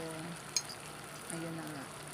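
Batter-coated quail eggs dropped one by one into hot oil, a faint steady frying hiss with a couple of small splashes.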